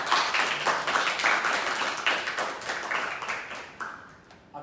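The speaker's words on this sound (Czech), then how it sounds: "největší potlesk si zaslouží sponzor našeho pořadu" An audience at a summer acting school show claps for the sponsor, dense close applause that swells and then tapers off toward the end.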